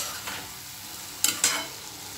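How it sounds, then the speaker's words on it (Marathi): A vegetable dish with salt is stirred in a pan, a soft, continuous sizzle broken by two sharp utensil scrapes close together near the end. "मीठ छान आपण हलवून घ्यायचे"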